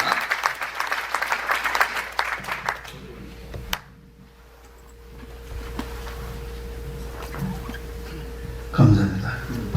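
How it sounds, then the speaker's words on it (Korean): Audience applause at a church association panel discussion, a burst of clapping for a few seconds that cuts off, followed by a quiet room with a steady hum and a brief thump near the end. "우리 다시 한번 우리 박수로 우리 패널 정리해 주시면 감사하겠습니다."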